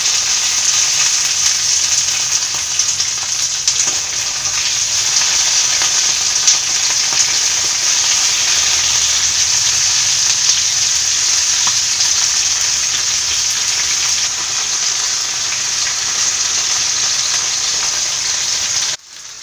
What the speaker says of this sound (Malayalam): ഏകദേശം 5 മിനിറ്റോളം മീഡിയം ഫ്ലെയിമിൽ കിടന്ന് ഫ്രൈ ആയതാണ്.